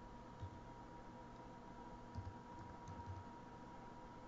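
Keyboard typing in a quiet room, a few faint, soft clusters of keystrokes over a low steady hum, with no talk.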